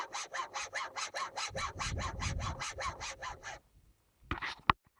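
A hand saw cuts through a wooden spar cap on a loom build, about fifteen quick, even rasping strokes close up, then a pause and a few final scrapes and a sharp knock.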